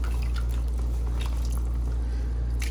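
Cooking water from boiled gatte, Rajasthani gram-flour dumplings, poured and stirred into a curry made without onion or garlic: a steady soft liquid pouring and sloshing with faint drips, close and continuous, with no talk.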